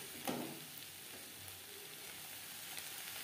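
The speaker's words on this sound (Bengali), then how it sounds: "মশলার সাথে পেঁয়াজ কলি বেশ ভালো করে মিক্স করে দেব" Onion stalks stir-fried with spice masala in a pan, giving a soft steady sizzle with a brief scrape of stirring near the start, low and close throughout.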